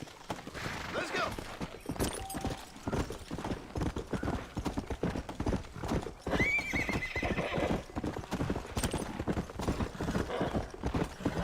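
Horse in the Red Dead Redemption video game galloping with steady rapid hoofbeats throughout, plus a clear neigh partway through, loud and close, with faint talk beneath.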